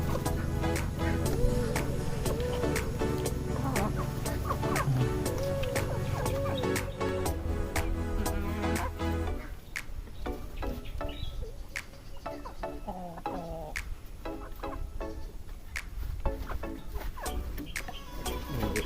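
A pet alimokon bird gives chicken-like clucking calls, short repeated notes heard near over a constant background bed that shifts partway through, with no clear talking.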